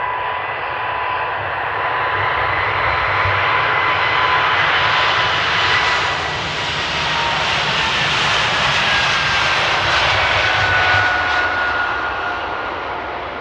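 A KLM airliner in SkyTeam livery takes off from Amsterdam, its engines a loud, sustained roar with a rising whine that swells toward the middle and stays strong throughout.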